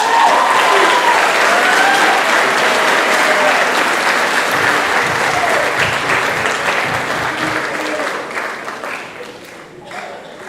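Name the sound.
audience applause at a band banquet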